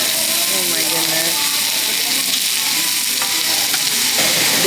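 Chicken teriyaki with pickled jalapenos sizzling on a hot surface, a loud, constant close-up hiss of frying that fills the whole moment, with faint voices underneath.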